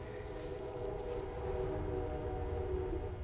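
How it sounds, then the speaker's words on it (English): A train rolls past near a trailer park, a steady low rumble with faint sustained horn-like tones running through it, fairly close and with no talk. "And that's a train going by."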